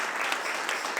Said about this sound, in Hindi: हम ताली बजा सकते हैं